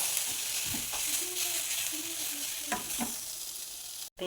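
Pasta being stirred in a pan after a little extra oil goes in, with a steady sizzle under scattered scraping strokes of the spoon, close and fairly loud, ending in a brief drop-out.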